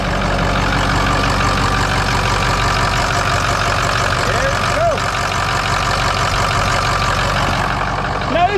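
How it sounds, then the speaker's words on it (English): A Ford 6.0 Powerstroke diesel engine idles steadily and loudly close by, a constant low rumble running the whole time, with a few faint squeaks and some background noise. "there we go, diesel power. Even though it's a Ford, still diesel power"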